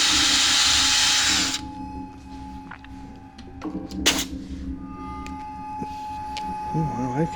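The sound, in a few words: power drill drilling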